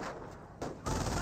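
Rapid bursts of Bren machine-gun fire in Company of Heroes 1, a short loud rattle that intensifies toward the end of the moment.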